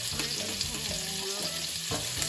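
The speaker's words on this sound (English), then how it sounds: "Get all your king prawns and you want to saute those off straight away." King prawns sauté in a pan with garlic, giving a steady, close, continuous sizzle and crackle of frying with no pauses.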